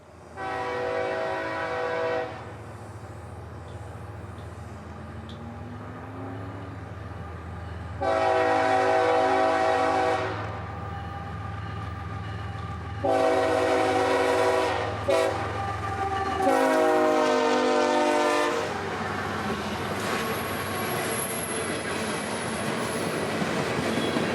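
CSX train 453 passes in central Florida. Repeated loud, sustained horn blasts sound over the steady rumble and clatter of rolling railcars, which grows in the later part and carries a faint high wheel squeal.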